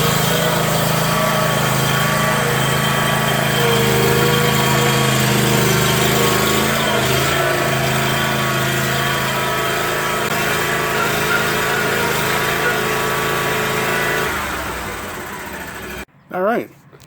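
A riding lawn mower engine running loud and close as it drives down a wooden ramp out of a 2017 Ford Transit 350 diesel van, steady then dropping away near the end, with someone speaking over it.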